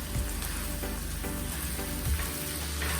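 Coriander being stirred into paneer pulao on a hot tawa, giving a constant dense sizzle with a few soft scraping stirs and light knocks of the spoon.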